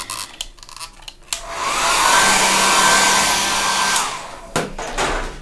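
A hair dryer blows over watercolor paint on paper, a steady loud whooshing roar lasting a few seconds after a click on, then switched off, with faint handling noises before and after.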